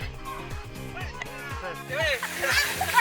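Splashing and sloshing in clear river water at Kali Putih, Selokromo village in Wonosobo, with people playing in the stream. It is heard under continuous music with a voice, and the splashing grows louder toward the end.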